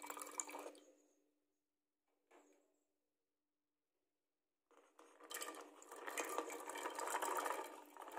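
Soaked chickpeas and their soaking water are tipped into a pressure cooker: a short pour at the start, a brief splash, a pause, then a longer steady stream of water filling the pot, close by, with no talk.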